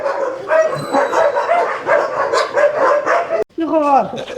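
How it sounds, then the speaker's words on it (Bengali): Several foreign-breed dogs on a farm barking loudly and continuously at arriving visitors, close by, with overlapping yelps and whines in a dense, agitated chorus. "এখানে বিদেশি কুকুর পালন করে এই যে দেখেন আমরা এখানে আসছি টের পাইছে সব চিল্লা পাল্লা শুরু করে দিছে"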